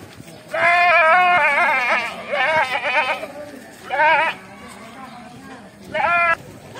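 Goats bleat near Indonesian butchers before the Eid al-Adha slaughter, in four loud wavering calls spread across the clip, with crowd chatter and voices in the background.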